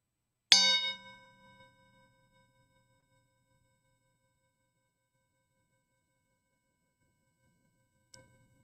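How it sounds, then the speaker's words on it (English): A single chime struck once during a worship service, ringing clear with a long decaying tone in an otherwise silent room, followed near the end by a faint brief metallic tap. "As we listen to the chime"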